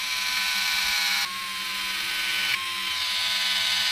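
Electric screwdriver driving screws into the motor case of a Vanquish Stubby RC crawler motor conversion, a steady close whirring hum in three bursts that shift slightly in pitch.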